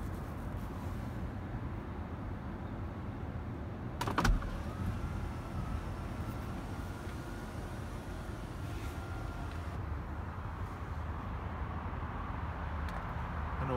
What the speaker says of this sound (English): This is not a fixed roof, it is the full opening roof, so that benefits from opening and closing electrically on the touchscreen.